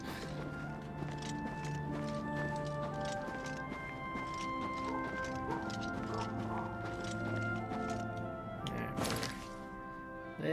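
Horse hooves clip-clopping in the video game The Elder Scrolls IV: Oblivion Remastered, a faint rhythmic run of hoofbeats under sustained in-game music and ambience, with a sharper thud near the end.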